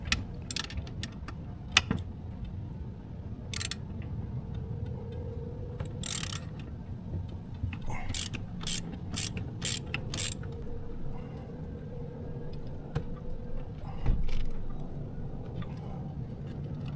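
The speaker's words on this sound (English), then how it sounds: "I unscrew its retainer." Shift cable retainer being unscrewed on a Volvo Penta stern drive, faint metallic clicks, ticks and ratchety creaks scattered over a low hum, with no talking.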